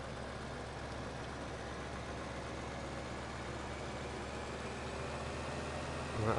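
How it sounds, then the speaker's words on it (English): Steady low idle of a Sammy tractor engine in Farming Simulator 2015, a constant smooth drone at moderate level with little variation. "We'll skip through to this Sammy tractor."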